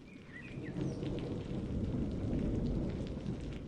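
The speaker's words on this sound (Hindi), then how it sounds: "अरे नहीं, ये बारिश तो फिर से शुरू हो गई।" Heavy rain pours down steadily as a broadband roar, with a deep low rumble underneath that may be thunder; no one speaks.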